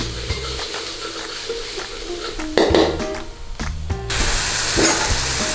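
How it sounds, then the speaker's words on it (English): Garlic sizzles in oil in a pan, with metallic clinks and scrapes of stirring breaking into the bright frying hiss, loud and close, growing fiercer toward the end. "Put your garlic in there. Give it a little stir around."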